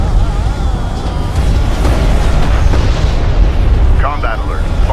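Enemy airstrike explosions pound the ground in Homeworld: Deserts of Kharak, a continuous loud rumbling barrage of blasts and debris, with a brief radio-like voice chirp near the end.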